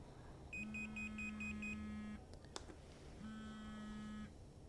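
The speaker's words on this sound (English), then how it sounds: "It beeps, I think, 5 times, 6 times, and it long vibrates." An Onyx 4K helmet camera from Fire Cam beeps six times in a quick run as it powers off, followed by a long electronic buzz, a faint click and another long tone, all fairly quiet.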